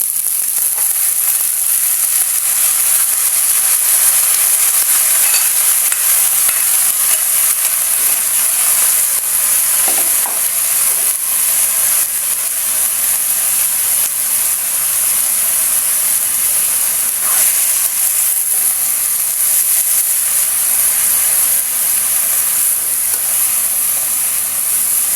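Heart of palm and carrots sizzle steadily in a hot pan, a continuous bright frying hiss that stays loud and even throughout with no talk over it.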